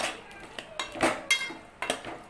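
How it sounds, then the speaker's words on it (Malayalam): A spoon or spatula clinks and scrapes against a pan while onion and capsicum are stirred for chilli chicken, giving a few sharp, irregular metallic taps over a soft, steady cooking background. "അതുകൂടി നന്നായിട്ടിട്ടൊന്ന് മിക്സ് ചെയ്തെടുക്കാം"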